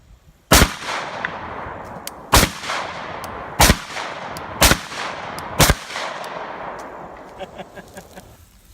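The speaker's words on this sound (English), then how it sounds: "I'm going to try it with 5 shots from his Sega" Five loud, sharp blasts from a Saiga shotgun, fired outdoors at a target and spaced about a second apart, each cracking hard and leaving a brief echo.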